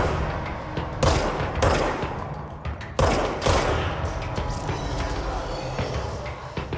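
Sniper and automatic gunfire in the action video game Control: loud, sharp bursts of shots around the one- and three-second marks, with a dense, rumbling background of combat noise between them.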